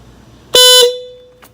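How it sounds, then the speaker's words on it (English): A Hella Supertone horn on a 2018 Honda Grom gives one loud, short, bright blast, then a brief tonal tail fades out, followed by a faint second chirp. It sounds close and rings out alone. "let me give it one more honk from the outside"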